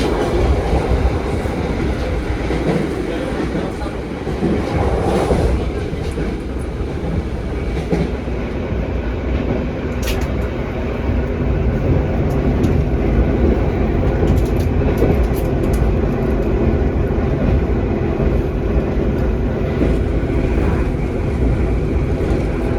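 The KA Pandalungan passenger train from Jakarta to Jember runs at about 115 km/h in a shaky non-stainless-steel coach, heard from inside as a loud, continuous rumbling roar with rhythmic wheel clatter on the rails and no talking.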